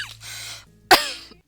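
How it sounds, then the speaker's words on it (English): A single harsh cough bursts out after a stretch of throaty breathing and low background hum, loud and close, trailing off into quiet. "Sorry about the coughing fit."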